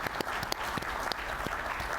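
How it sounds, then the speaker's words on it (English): Applause from attendees at the 2023 Annual Meeting closing ceremony in Chicago, a full, continuous roar of many hands clapping with sharp individual claps standing out throughout. "let's give yourselves a round of applause"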